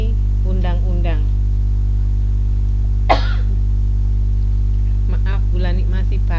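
In a classroom, a teacher lets out a single sharp cough midway through, between stretches of nearby speech over a constant low electrical hum.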